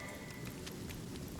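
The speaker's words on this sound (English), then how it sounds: "some rain going here." Steady rain falls in the Divinity Original Sin video game, a dense continuous patter with faint droplet ticks and a low wash, even in loudness and without talk.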